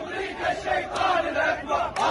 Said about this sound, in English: if you're wondering what these people are chanting, they are chanting, I quote, "America is the greatest devil."